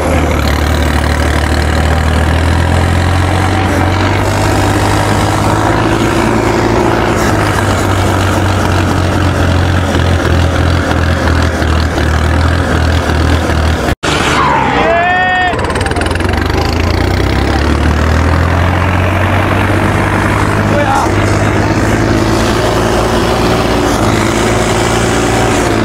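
A tractor engine runs loud and close in a steady low drone, dipping briefly midway with a sharp click and a short whining sweep before resuming its constant rumble.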